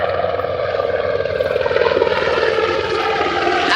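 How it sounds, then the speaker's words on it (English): A large military helicopter passes right overhead near a river during a carp fishing session, a loud, steady rotor and engine drone that grows slightly louder as it nears. "Check it out, military helicopter going right overhead."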